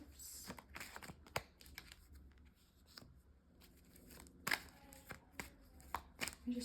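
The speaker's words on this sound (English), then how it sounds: "I just realized I'm shuffling these upside down." A deck of tarot cards is shuffled up close in a quiet room, a run of crisp riffling snaps and soft flicks in irregular bursts with brief pauses between them.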